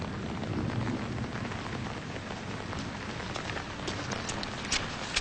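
Steady rain pours down outdoors in a dense, even hiss with scattered sharper drop impacts near the end, no voices over it.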